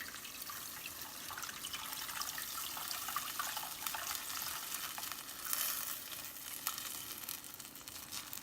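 Black tamarind dissolved in water poured into a simmering village-style fish curry (meen kulambu), giving a steady, close sizzling, splashing wash of liquid that holds for the whole stretch, with a brief brighter surge partway through.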